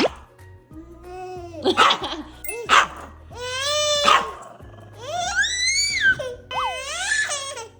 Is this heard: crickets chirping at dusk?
no